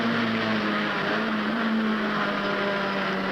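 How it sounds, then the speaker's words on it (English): A BRE Datsun race car accelerates hard out of a turn, its engine note holding a loud, steady high-revving drone with a sustained pitch across the whole stretch. "accelerating out of the turn. Third gear, back in the fourth gear, in for the left-hander."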